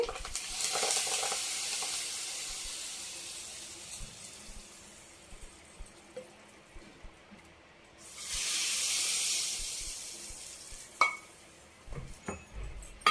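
Hot tempering poured into a leafy greens dal sizzles loudly in two bursts, a steady hiss at the start and another strong burst of frying near the end, with faint stirring clatter between.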